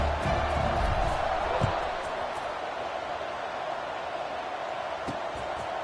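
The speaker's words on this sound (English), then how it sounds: "this crowd is buzzing after that last score" Steady, broad crowd buzz filling a college football stadium after a score, loud at first then settling into a continuous murmur with occasional claps and shouts, under a commentator's voice.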